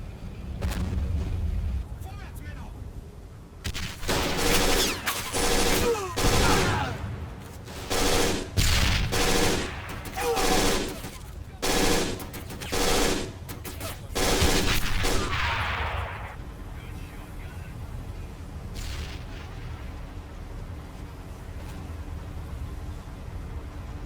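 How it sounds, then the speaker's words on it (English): M7 Priest howitzer artillery fire in the Men of War video game comes as a barrage of heavy booming blasts in quick succession for about twelve seconds, loud and rumbling, then fades to a low background rumble. "Pummel it a bit with some artillery fire"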